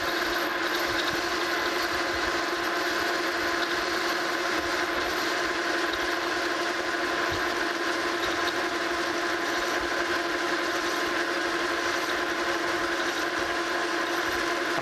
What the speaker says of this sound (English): I'm kind of pulsing my cutter so that I break those chips up.